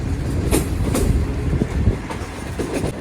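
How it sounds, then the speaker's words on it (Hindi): Green Line Express train at Lala Musa Junction, its wagons rolling past close and loud with rhythmic wheel clatter, rumbling and a few sharp squeals over a steady roar. "ट्रेन से मुलाकात हो गई लाला मुसा जंक्शन पर"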